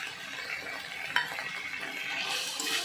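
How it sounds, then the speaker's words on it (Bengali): Cauliflower curry with turmeric, beaten yogurt and ghee being stirred in a pan, a soft steady scraping and gentle sizzle with one brief sharp clink of the spoon, no voices. "দিয়ে ভালো করে নাড়াচাড়া করে দিচ্ছি।"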